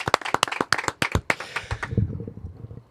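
Studio applause welcoming a guest on a football-themed show, a handful of sharp, distinct hand claps in quick irregular succession, close and crisp, fading into a low murmur.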